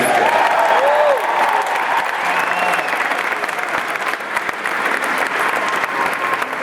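Steady, loud applause from a graduation audience cheering for public school educators, a dense wash of clapping with crowd murmur that continues without a break.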